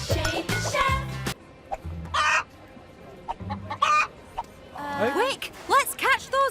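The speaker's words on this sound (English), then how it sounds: "Quick, let's catch those hens!" Hens cluck and a rooster crows in a farm cartoon, a busy run of loud, close squawks and clucks with short pauses between bursts.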